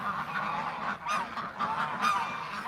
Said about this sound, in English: The goose took a little swipe at the baby and got Doug's attention